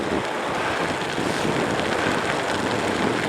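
Steady wind roars and buffets across the microphone while someone cycles uphill on a winter bike fitted with Slipnot chains, a loud continuous rush with no speech.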